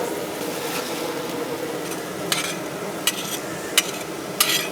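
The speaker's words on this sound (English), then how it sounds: "There goes our garlic. Get that sauteed up a little bit of garlic." Garlic sautés in a pan for drunken noodles with a steady soft sizzle, broken by four sharp scrapes or clinks of the utensil spaced about a second apart, close by and with no voices.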